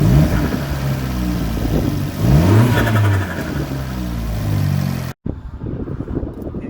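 A Fiat 500 Abarth engine with its air filter inside the cowl revs loudly and close, climbing twice in pitch with a raw intake roar before cutting off and dropping to a rougher idle.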